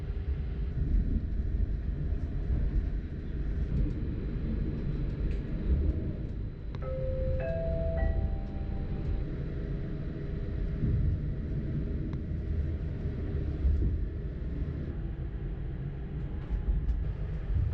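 The Mariazellerbahn, a narrow-gauge electric railway climbing from St Pölten toward Mariazell in snowy country, rumbles and hums steadily throughout, with a brief tonal squeal or whine around the middle.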